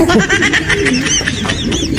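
Pet pigeons cooing and calling in a steady, dense chorus close by, with bird chirps layered over constant background noise throughout.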